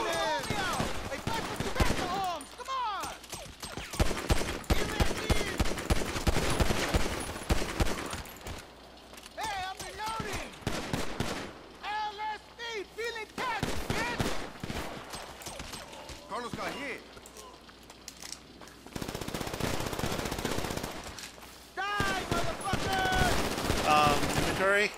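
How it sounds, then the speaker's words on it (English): Gunfire in the GTA 5 Online video game, loud rapid bursts and overlapping volleys of shots in dense clusters with brief lulls between them, while a voice talks over parts of the fighting. "Are they shooting my own guys?"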